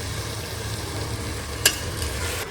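Rajma frying in a pan gives off a steady, close sizzle with low bubbling underneath and one sharp click partway through.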